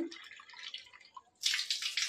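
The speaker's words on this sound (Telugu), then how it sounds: "ఈ 3వ కప్లో వచ్చేసి బోర్ కనెక్షన్ నుంచి వచ్చే వాటర్ తీసుకుంటున్నాను" Water from a bore connection is poured into a cup, a soft trickle at first, then a brief pause before a louder, splashing stream that runs on to the end, close by with no talking.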